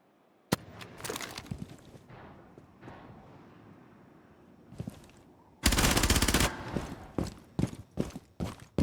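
Gunfire in a competitive video game shooter, with scattered single shots and then a loud sustained automatic burst followed by several sharp shots, up close.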